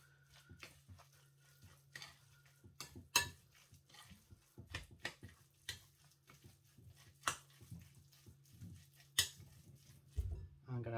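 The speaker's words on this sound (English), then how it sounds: "Mix that all together." Beef olive filling being mixed with cheese in a bowl, utensil clinks and scrapes against the bowl coming in an irregular series of soft knocks and taps, close and fairly quiet, with a low steady hum underneath.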